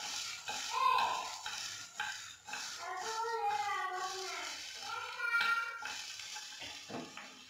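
Red chilli chicken being stirred in a pan, with a soft scraping and faint sizzle running steadily throughout while someone talks over it.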